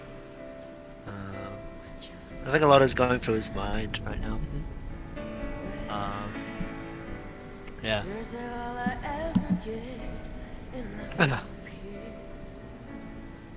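Steady rain patters in the background throughout, under people talking and sustained tonal music with occasional louder swells.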